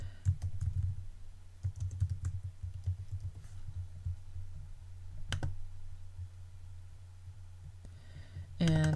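Someone types text on a computer keyboard into a field in mapping software, scattered key clicks over a steady low hum, close-up, ending with a brief louder burst of sound.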